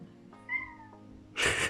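A cat gives a single drawn-out meow, close and fairly clear, followed by a brief burst of rustling noise.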